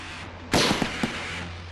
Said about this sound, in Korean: 표적을 향해 방아쇠를 당긴다.